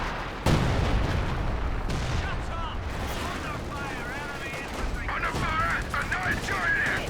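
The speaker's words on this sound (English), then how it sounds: "LEFH targeting that forward assembly here" LEFH howitzer artillery firing in the strategy game Company of Heroes 2, with a sharp opening blast and then scattered booms and gunfire across a noisy battlefield while someone commentates over the din.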